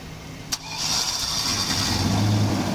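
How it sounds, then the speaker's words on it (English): A car engine cranks and catches after a sharp click, then settles into a steady idle hum that holds to the end, close and fairly loud, with no talk. "Start your car up first."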